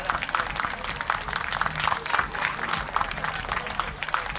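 An audience at a school back-to-school event claps in a steady, dense wash of applause that keeps going without a break at moderate volume.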